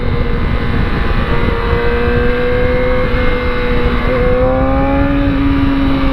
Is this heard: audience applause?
no